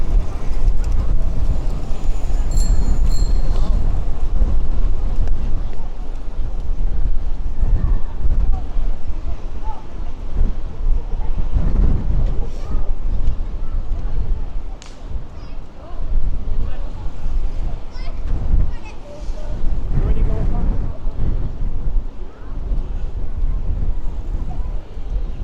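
Wind buffets a cyclist's microphone while riding along the Blackpool Illuminations, a loud, constant low rumble that surges and dips for the whole stretch, with faint sounds of the ride beneath it.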